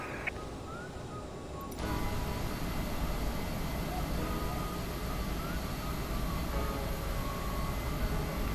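An airliner, a United CRJ550 in a flight simulator, spools up for takeoff at Washington Dulles: a steady broadband engine roar rises sharply after a quieter idle and holds loud and constant, with a faint high whine throughout.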